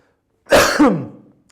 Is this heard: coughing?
yes